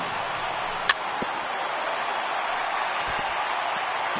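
A big stadium crowd of around 39,000 in a PS4 baseball game roars and applauds in a steady, dense wash of noise, with one sharp click early on.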